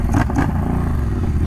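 Triumph Bonneville Bobber parallel twin engine revs with a loud, bubbly rumble, a couple of quick throttle blips up front settling into a steady, close, throaty idle-like drone.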